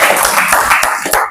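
Students in a classroom clap for their classmates: a short burst of quick, fairly loud hand claps with sharp individual slaps, heard close by.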